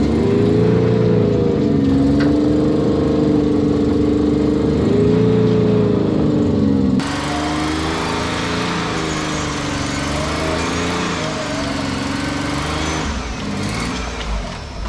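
Motorized winch on a Pathmaker off-road vehicle reeling in synthetic winch rope on a forest trail, a steady loud whirring drone that shifts pitch partway through and runs continuously throughout.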